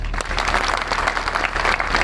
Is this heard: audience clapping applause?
yes